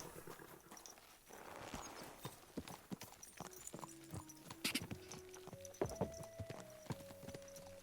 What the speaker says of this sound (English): Mount up and ride with me.